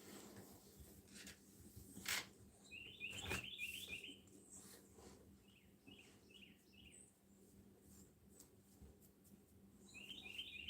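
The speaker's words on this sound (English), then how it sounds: "I'm just listening to the birds. It's so sounds so beautiful." Small birds chirping outdoors, repeated clusters of quick high tweets scattered across the stretch, fairly distant and soft over a quiet background with occasional faint knocks.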